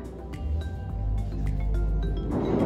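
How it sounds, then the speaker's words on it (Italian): Construction work from a building nearby under completion fills a room with low rumbling and scattered knocks and bangs, a muffled, continuous din at moderate distance. "Il rumore che sentite sono i lavori"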